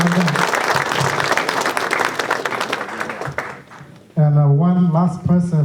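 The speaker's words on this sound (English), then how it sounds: "So give them a round of applause for supporting our event." Dense audience applause at a General Vang Pao's Day celebration thanking event sponsors, loud and steady for about four seconds before someone speaks.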